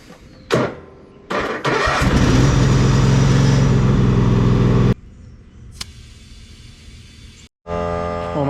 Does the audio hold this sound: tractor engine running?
yes